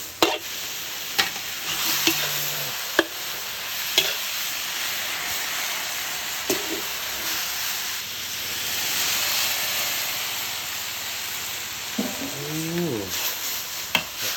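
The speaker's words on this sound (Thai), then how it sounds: "เรากำลังย่อนหมูอยู่เด้อ" Pork belly sizzles in a pot, with a steady hissing fry under the clatter of a utensil stirring it. Faint voices murmur briefly in the background.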